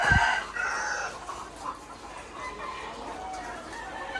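Several caged laying hens cluck and call nearby at a layer farm, with a busy, overlapping chorus of hen sounds that fades to softer clucking.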